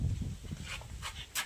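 A dog making short, close sounds, a few brief yelps or whimpers over soft panting, heard alone in a short burst.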